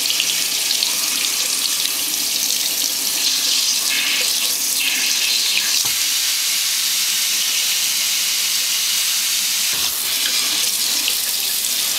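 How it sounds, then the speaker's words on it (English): Garden hose held close, forcing a strong spray of water through the felt waste-ink absorbing pads of an Epson 1400 inkjet printer outdoors, a loud steady hiss with a few brief changes in pitch. "Hold it up close so that you're literally forcing water into it,"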